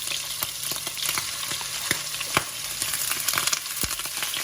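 Wet prawns and squid in hot oil for a Thai stir-fry, a continuous sizzle crackling with sharp pops and spits, close and lively, no talking.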